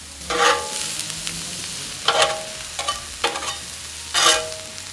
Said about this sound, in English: And now for the next step, caramelizing our onions.